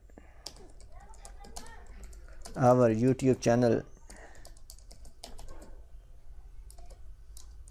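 Someone types a message on a computer keyboard, sending quiet, irregular clicks and taps throughout, briefly interrupted by a short spoken phrase before the typing resumes.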